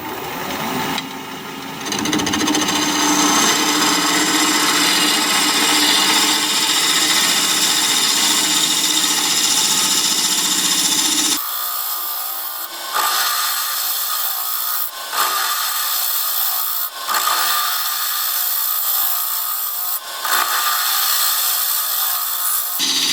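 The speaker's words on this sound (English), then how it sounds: "We're going to be turning at 900 RPM, 5/8 inch bowl gouge, mask and face shield on." A 5/8 inch bowl gouge cutting an end grain mesquite bowl on a lathe spinning at 900 RPM, giving a loud continuous shearing hiss that shifts in tone midway, broken by a few brief pauses between passes.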